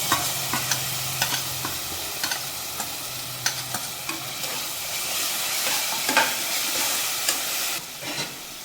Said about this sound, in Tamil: நல்லா வெங்காயம் வதங்கிடுச்சு இஞ்சி பூண்டை சேர்த்துடலாம்